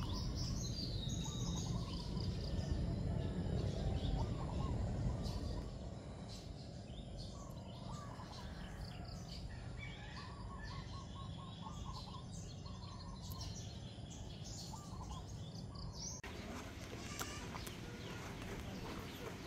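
Black birds living in a box call and chirp in repeated bursts, moderately close, over a farmyard backdrop with faint animal sounds and a louder rustle early on.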